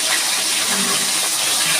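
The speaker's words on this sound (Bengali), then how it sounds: "আমি দিয়ে দিচ্ছি জল।" Water pours steadily into a pan of simmering spiced curry for a bottle gourd kofta dish, a continuous close, loud gushing wash lasting under two seconds with no voices.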